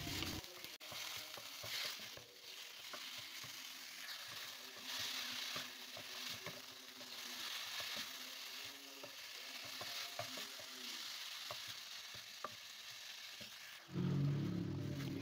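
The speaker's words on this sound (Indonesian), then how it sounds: "Kita tumis lagi ya ayam dan bumbunya sampai ayamnya berair" Chicken and spices sizzle steadily in a pan while a utensil stirs and scrapes in irregular strokes, close and fairly quiet, with no talking.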